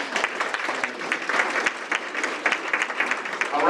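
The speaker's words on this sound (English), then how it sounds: "Let's give them a round of applause." Warm applause from a landlord conference audience for the housing authority's staff, moderately close clapping with an uneven, pulsing texture of individual hands throughout.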